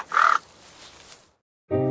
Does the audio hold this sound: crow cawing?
yes